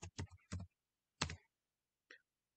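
Keys on a computer keyboard click in a short, irregular burst of about five sharp taps while data is entered in SAP, then fall quiet.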